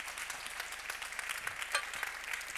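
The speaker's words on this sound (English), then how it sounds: "A big round of applause." Audience applause at a legal conference on commercial dispute resolution, a steady patter of many hands clapping at low volume throughout, with no voices heard.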